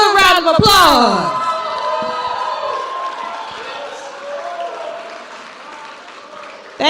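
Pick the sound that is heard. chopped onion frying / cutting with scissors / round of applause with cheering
round of applause with cheering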